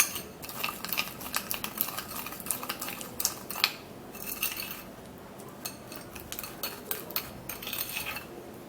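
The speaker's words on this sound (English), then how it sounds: "And then we would have to mix all the ingredients together." A metal utensil stirring and mixing homemade lipstick ingredients in a small container, with repeated scraping clinks and taps in an uneven rhythm, close and moderately loud, with no talking.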